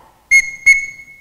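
A bosun-style whistle blown as a call signal for children, two sharp bursts in quick succession, the second trailing into a sustained steady tone, loud and close with no talking.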